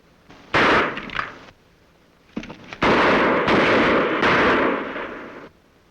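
Gunshots fired at close range in an old Western drama: a loud first blast with a short echo, a brief pause, then a quick cluster of heavy, reverberant shots rolling into one another.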